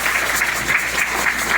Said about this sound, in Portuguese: Salva de palmas para a nossa ilustre palestrante.